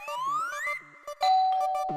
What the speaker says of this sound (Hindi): घंटी बजी ना?